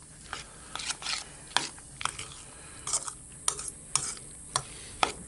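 Seasoning being stirred into fire-roasted jalapeno and chili, a series of close scraping and clinking strokes in an irregular rhythm, each one short and distinct.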